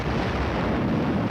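Sustained heavy roar of artillery fire at an army training exercise, a dense continuous rumble with booming low end filling the whole stretch, loud and without voices.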